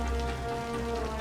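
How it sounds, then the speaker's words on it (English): Simulated rain falls steadily in the city-building game Cities: Skylines, a dense, even hiss of drops on surfaces with no breaks. "Looks like we got a spot of rain here in our Extra Life city."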